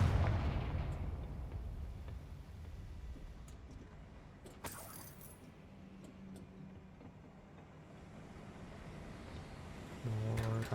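Confringo fire spell explosions in Hogwarts Legacy, a sharp blast with a rumbling decay followed by a few smaller bursts and crackles, then a low hum with a short tonal chime near the end.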